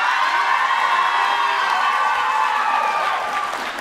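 An audience at a Comedy Sportz improv match claps and cheers loudly and continuously for the Spelling Bee scene, a dense wash of applause with shouts and whoops.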